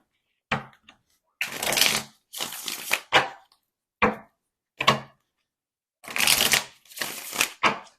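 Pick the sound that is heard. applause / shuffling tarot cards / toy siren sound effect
shuffling tarot cards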